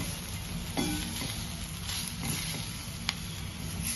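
Crispy potato sabzi with salt, coconut and coriander fries in a pan while being stirred, an even close sizzle with light scraping and a sharp tap near the end.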